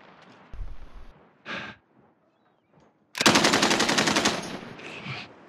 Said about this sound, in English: Somebody shooting too